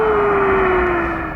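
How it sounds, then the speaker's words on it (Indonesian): A steady, slowly falling whistling tone from a radio signal recorded by Apollo 10, sustained alone over a hissing static background for just over a second. "Do you hear that whistling sound?"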